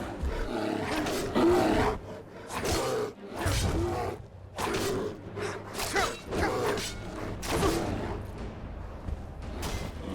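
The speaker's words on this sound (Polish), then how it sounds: "Znowu niedźwiedź, tym razem nie zdążyłem wyciągnąć broni." A bear roars repeatedly in the Skyrim video game, loud growling bursts in quick succession with combat whooshes and clatter.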